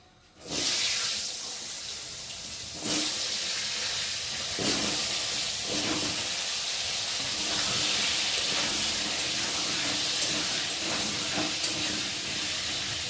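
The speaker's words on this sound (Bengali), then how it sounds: "আর এখন আমি কেটে রাখা আলুগুলোকে দিয়ে ভালো করে ভেজে নেব" Cut potatoes hiss and sizzle steadily in hot oil with cumin seeds in a pan, a constant close frying crackle with a few brief louder bursts and no talking.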